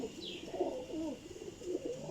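An old-breed working pigeon coos softly in a few low rolling phrases, fairly quiet and close, with no one talking.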